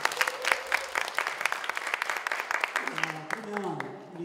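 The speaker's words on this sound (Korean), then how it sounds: "다시 박수 한번 주십시오." Audience applause at a CEO course welcome reception in Daegu, steady clapping throughout with voices speaking over it toward the end.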